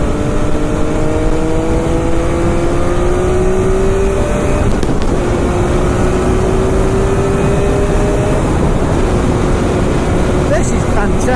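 An MV Agusta F3 motorcycle rides along on a winter road, its engine holding a steady droning pitch that rises slowly through the gears under constant wind rush, loud and close throughout.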